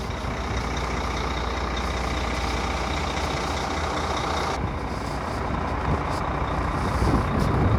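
Empty Volvo truck driving on the highway from Yemen back to Dubai, a continuous loud engine and road rumble with wind noise that stays steady throughout, without speech.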